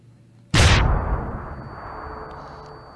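A single loud pistol shot fired in the video game Deus Ex: Human Revolution, a sharp close blast that rings out into a long, slowly fading echo.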